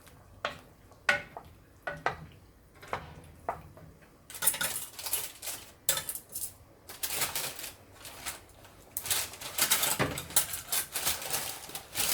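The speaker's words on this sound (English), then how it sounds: "Just trying to do it gradually and mix it in with the stock" Cauliflower cheese soup mixture stirred gradually into stock, giving a run of quiet scraping and clinking taps early on that build into denser, louder stirring and splashing.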